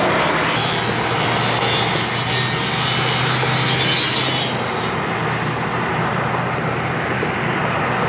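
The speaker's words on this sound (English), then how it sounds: "you can hear that they're still sawing that" A fire crew's power saw cutting open a crashed 18-wheeler on a freeway, heard as a loud, steady roaring drone with a broad rushing texture that continues unbroken, then becomes somewhat duller partway through.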